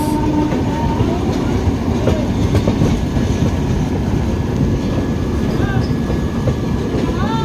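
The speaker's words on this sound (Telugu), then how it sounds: "ఇప్పుడైతే మనం హౌరా పూరి శతాబ్ది ఎక్స్ప్రెస్ని అయితే క్రాస్ చేస్తున్నాం గైస్." A Howrah-Puri Shatabdi Express train passes close by, its steady loud rumble and clatter of wheels on rail filling the whole stretch, with faint squeals rising here and there.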